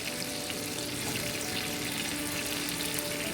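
Steak and butter frying in a pan, a steady, dense sizzle holding evenly throughout at close range with no talking.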